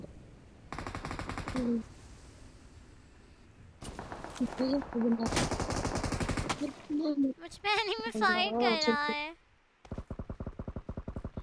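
Automatic gunfire in PUBG Mobile rattles in several long bursts of rapid shots, with louder fire near the end, while someone talks excitedly in between and over it.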